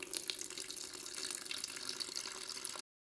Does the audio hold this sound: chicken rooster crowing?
no